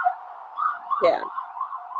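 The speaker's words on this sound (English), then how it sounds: "I know, sorry, that was an ambulance." An ambulance siren wails on a New York street, a wavering, moderately distant tone with a brief louder honk or yelp burst in the middle.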